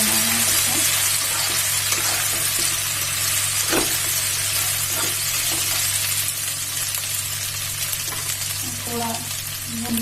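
Cauliflower for gobi manchurian roasts in a pan with a steady, close sizzle and hiss throughout, broken by brief stirring knocks.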